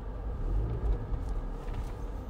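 A 2025 Jeep Wrangler Rubicon driving over a rough road, heard from inside as a low, muffled rumble with soft thumps and jostling, fairly quiet and steady.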